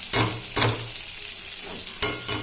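Ginger stirred into frying ivy gourd curry with onions and curry leaves, a steady close sizzle broken by a few distinct spoon taps against the pan.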